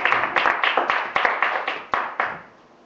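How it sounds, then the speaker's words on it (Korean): Roughly nine or ten crisp hand claps from a small group in a classroom-style talk, spaced in a fairly even rhythm, close and clear, trailing off into quiet. "박수!"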